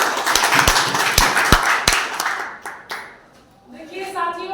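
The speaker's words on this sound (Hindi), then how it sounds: "एक बार जोरदार तालियों से" Audience claps vigorously with a few sharp, loud claps standing out, the applause fading after about three seconds before a voice begins speaking.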